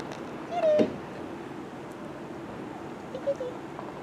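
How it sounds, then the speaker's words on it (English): A cat at a pumpkin patch lets out one clear, close meow, then a shorter, softer one a few seconds later over a quiet outdoor background. "Does this cat work here?"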